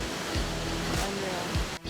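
Mooney Falls on the Havasupai Reservation, a tall waterfall about 190 feet high, giving a broad, constant rushing roar of falling water with a few passing swells and a brief dip near the end.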